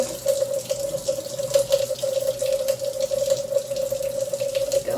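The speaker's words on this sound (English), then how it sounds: "So I'm going to put on cold water. Pour this into my colander." Cold water runs from a tap over canned chopped tomatoes in a colander, a steady close hiss and patter of flowing water throughout, with a brief spoken remark.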